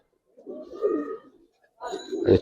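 An orange, pearl-eyed Giribaz pigeon coos in two close, soft rolling bursts separated by a short pause, with no talking around it.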